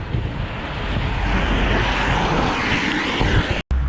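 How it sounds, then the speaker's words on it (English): A strong headwind buffets the microphone while cycling uphill, making a loud, continuous roar that dips abruptly near the end. "We got a brutal headwind now"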